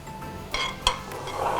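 A spoon stirs a skin-care mixture with added water in a pot, giving a few light, close metallic clinks and scrapes over a quiet background.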